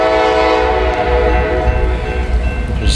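A Norfolk Southern train passes close by on a rainy morning in Hamilton, its horn sounding loud and sustained over the heavy rumble and clatter of the cars.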